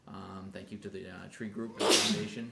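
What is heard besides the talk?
sneeze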